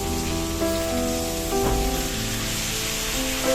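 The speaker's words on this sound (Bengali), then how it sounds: "তেলটা গরম হয়ে উঠলে তার মধ্যে চিকেনের পিসগুলো দিয়ে দেবো" Chicken pieces for tandoori chicken hit hot oil in a pan on a gas stove, giving a steady dense sizzle that swells briefly a few times, close and fairly loud with no talk.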